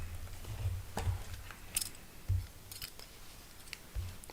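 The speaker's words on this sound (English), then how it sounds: "So I have my scissors here." Scissors cutting open Magic: The Gathering Jumpstart Foundations card packs up close, a handful of soft snips and crisp clicks spaced apart against quiet room tone.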